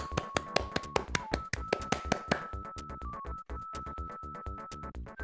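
Applause in the Leisure Suit Larry 2 game, rendered as a rhythmic series of sharp synthesized taps with a sustained beeping tone, steady and fairly loud.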